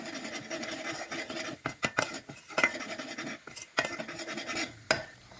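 Flour being stirred and toasted in oil in a pot for homemade tomato soup, quiet scraping and clinking of a utensil against the pan in irregular strokes, close and alone.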